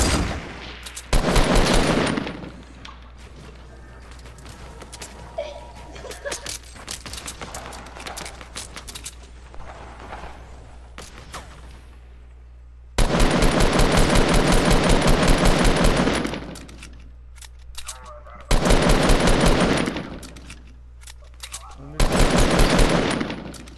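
Bursts of rapid automatic gunfire in a squad-mode shooter video game, loud dense volleys separated by quieter stretches of distant shots and game noise, with a player talking over the action.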